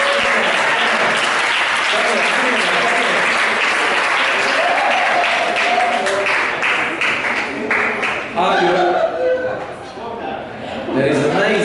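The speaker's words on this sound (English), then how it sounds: "Give a round of applause for this guy that's coming here." Audience applause at a live comedy show, a dense wash of clapping that fades toward the end as a voice and other talk come through over it.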